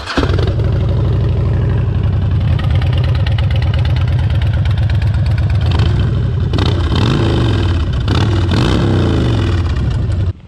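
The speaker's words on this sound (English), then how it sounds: "Now, coming from the world of sport bikes, the V-twin sound is totally different." A Harley-Davidson Dyna V-twin with a Vance & Hines exhaust fires up and settles into a loud, loping idle close by, then gets revved in a few sharp throttle blips, steady and continuous without talk.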